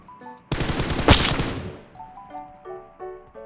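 A loud burst of automatic gunfire in the battle royale game PUBG, a rapid run of shots lasting about a second, followed by quieter tonal game interface beeps and chimes.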